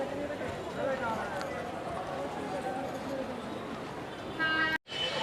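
A train at Barasat Junction railway station, a steady broadband rumble of rolling stock running through the clip, with station bustle and voices in the background and a sudden cut near the end.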